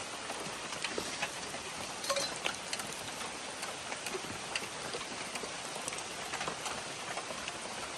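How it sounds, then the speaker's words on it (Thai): Morning rain falls steadily on a small hut deep in a forest durian orchard, a dense, continuous patter and hiss with scattered louder drips, even and unbroken throughout. "ฝนเนี่ยได้ตก ลงมาแต่เช้าเลย"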